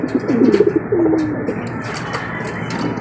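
Pigeons cooing close by, a few low throaty warbling coos early on, then quieter rustling and faint distant calls.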